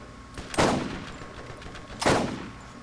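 Enemy gunfire in the video game Borderlands, two separate booming shots about a second and a half apart, each with a decaying rumble, moderately loud and without talk.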